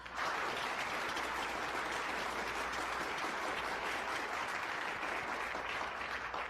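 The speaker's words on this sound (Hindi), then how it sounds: "तालियों से स्वागत कीजिए टीम 235 का।" A studio audience gives sustained, even applause for a debate team, with many hands clapping densely and steadily at a constant level from start to finish.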